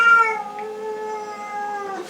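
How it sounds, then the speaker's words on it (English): A house cat gives one long, drawn-out meow, steady and fairly close, fading slightly toward the end with no talking over it. "that's Stewie the cat"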